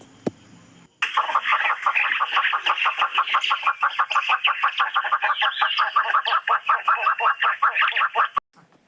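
A hornbill call: a long run of loud, rapid, rhythmic squawking pulses that continues for about eight seconds, alone and without talk, after a short pause at the start.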